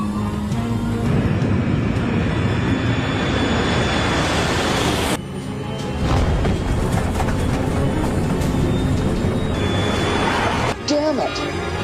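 Continental Airlines airliner on its takeoff roll in strong winds, a loud sustained engine roar with wind buffeting filling the cabin, broken briefly by short dropouts.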